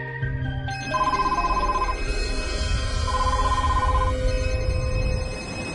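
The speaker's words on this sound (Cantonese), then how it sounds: "索命嘅鈴聲" An ominous ringing bell effect from a horror radio drama, a telephone-like ring pulsing in repeated bursts over a dark droning bed, loud and sustained.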